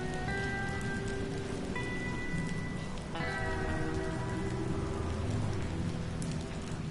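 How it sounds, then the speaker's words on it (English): Steady rain pattering on surfaces in a game scene, continuous and fairly close, with a few tonal musical or electronic notes layered over the downpour. "Oh, it's raining"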